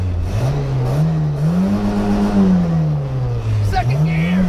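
Car engine revving hard and steadily climbing in pitch as the driver shifts into second gear, loud and close, with excited voices talking over it.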